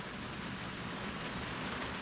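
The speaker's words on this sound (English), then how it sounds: "Uh-oh, it's raining." Steady, dense hiss of rain falling on an RV, constant and fairly close with no talking.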